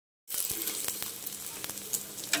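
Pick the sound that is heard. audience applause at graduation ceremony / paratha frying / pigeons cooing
paratha frying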